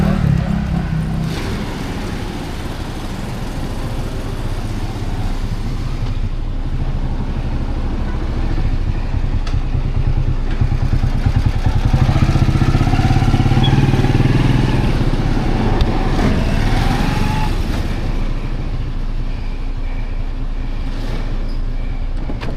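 Tricycle motorcycles idle and rev at a busy Palawan terminal in Puerto Princesa, a loud, steady engine rumble with passing vehicles and background chatter mixed in.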